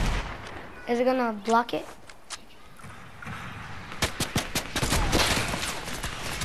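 Sniper rifle shots in a video game crack out as a quick burst of sharp reports near the end, following a short spoken question and a lull.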